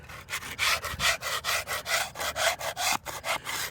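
A small plastic scraper rasps lichen off a wet gravestone in rhythmic, close, steady strokes, about three or four per second, with no voices.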